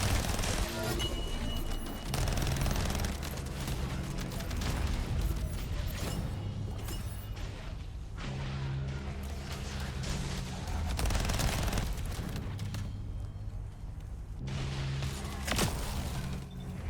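A fireworks shotgun fires in the video game The First Descendant: dense repeated bursts of blasts and crackling pops over mechanical clatter, loud and continuous throughout.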